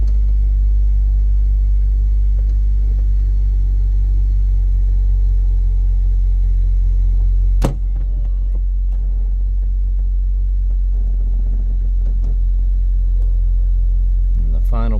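From inside a BMW Z4 sDrive35i on a test drive, a constant low engine and road rumble is heard, loud and steady throughout. There is one brief sharp knock partway through, and soft interior noises sit above the drone.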